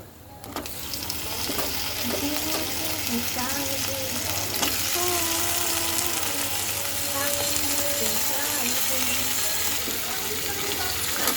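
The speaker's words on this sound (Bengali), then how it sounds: "যখন আমার আদা রসুন পেঁয়াজটা ভাজা ভাজা হয়ে যাবে ঠিক ওই সময়ে আমি দিয়ে দেব ধুয়ে রাখা মাংসগুলো" Washed country chicken pieces hit a pan of frying ginger, garlic and onion, setting off a loud, steady sizzle that holds throughout, with stirring scrapes and a faint voice speaking underneath.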